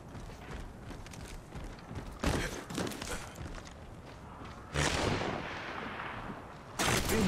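Gunfire in Apex Legends, several sharp loud bursts of shots spread across the stretch, with quieter clatter and movement sounds in between.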